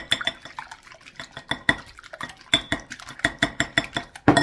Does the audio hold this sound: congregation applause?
no